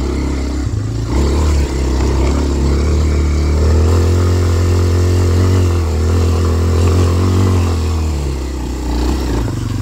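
Kawasaki KLX230R dirt bike ridden along a backwoods trail, its engine droning loud and steady throughout with shifting revs and no voices.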